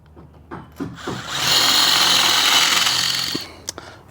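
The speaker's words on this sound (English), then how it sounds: "I've got a spot weld drill bit" A few clicks and taps, then a power drill with a spot weld drill bit spins up and grinds steadily for about two seconds while drilling out a dirt bike spark arrestor, before winding down, followed by light metallic clinks.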